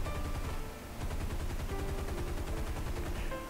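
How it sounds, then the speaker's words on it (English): The Hellcat fighter's machine guns fire in War Thunder as a dense, continuous rattle of rapid shots, loud and unbroken apart from a brief dip near the first second. "so now I can take some shots at him"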